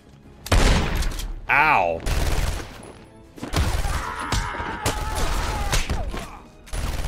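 Enemy gunfire in Batman: Arkham Asylum on PS5 breaks out in several loud, sharp bursts and volleys with clattering impacts between them, while a player's voice yelps in pain partway through.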